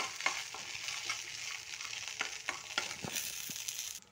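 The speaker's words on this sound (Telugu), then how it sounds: "ఇలా కాజు వేసుకొని కాజుని నెయ్యిలో డీప్ ఫ్రై చేసుకోండి." Cashews deep frying in hot ghee in a pan on a stove, a steady close sizzle with bright crackling and occasional stirring clicks, no talking.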